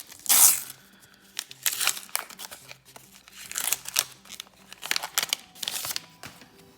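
2004 Magic the Gathering Unhinged booster packs are torn open, with repeated crinkling foil wrappers and tearing bursts in uneven rhythm, close and fairly quiet.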